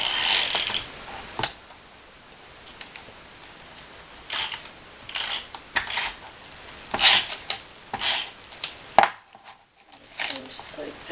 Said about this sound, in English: Then I'm gonna take some adhesive all the way on all the edges.